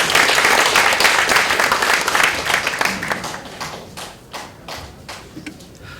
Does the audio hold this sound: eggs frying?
no